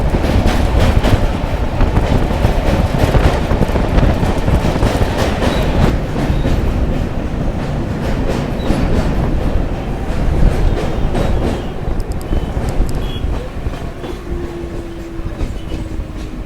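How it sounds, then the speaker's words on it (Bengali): A local train rumbles steadily with rhythmic clacking of wheels over rails while crossing the Nivedita Setu bridge over the Hooghly River, loud and close, the noise continuing throughout with a slight easing near the end. "আমাদের ট্রেনটা এখন যে ব্রিজ দিয়ে যাচ্ছে"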